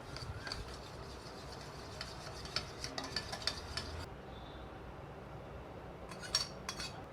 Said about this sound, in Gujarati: આ બધું સરસ આપણે મિક્સ કરી લઈશું હવે